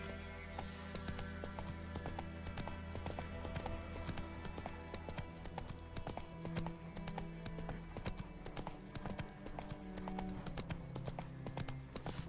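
Horse hooves galloping in The Witcher 3 video game, a steady rhythmic clip-clop of hoofbeats running continuously and fairly close, with faint game music and ambience underneath.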